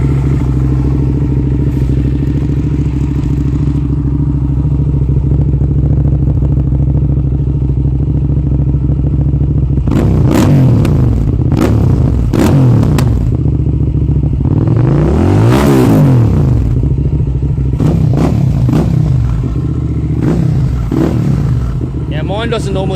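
Motorcycle engine idling and warming up while tuned to run rich, a loud close steady rumble with repeated sharp revs and clattering throttle blips in the middle.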